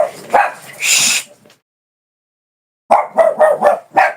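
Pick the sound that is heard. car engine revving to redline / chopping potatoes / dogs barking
dogs barking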